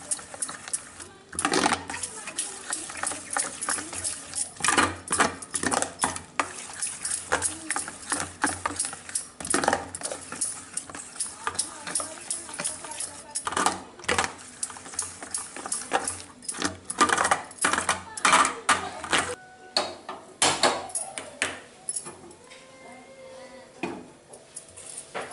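A spoon stirs pepper, cumin and salt into egg batter for paniyaram, clinking steadily against the bowl in repeated quick scraping bursts that carry on for a long stretch, close and fairly loud.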